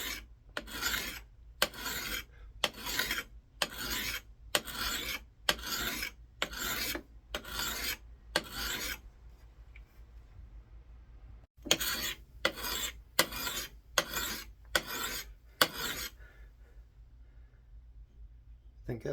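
A coarse sharpening stone is rasped along the edge of a Marbles camp axe in steady, even strokes, about a dozen in one run, then a pause and a shorter second run of strokes, close and fairly loud.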